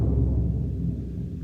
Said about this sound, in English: The reason is because the bass drum rings a lot when you play it.